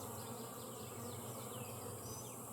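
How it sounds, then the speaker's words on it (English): A dense, steady hum of many honeybees buzzing close by in a hive, continuous and loud with no pauses or voices. "Because it's full of bees."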